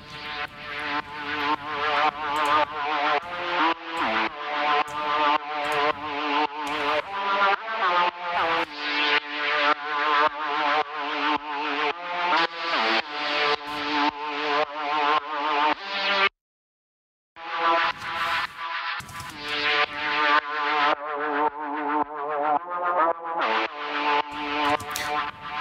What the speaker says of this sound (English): It's a really overdriven, saturated kind of lead.